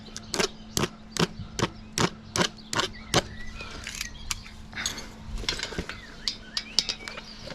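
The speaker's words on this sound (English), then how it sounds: "Get your spoon in there." A metal spoon pries an old bicycle tyre off its rim, producing a quick run of sharp, evenly spaced clicking ticks followed by irregular scrapes, squeaks and clacks, close and moderately quiet.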